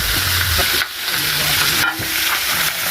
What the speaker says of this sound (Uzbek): O'shaning uchun yengil qovurib olyapti.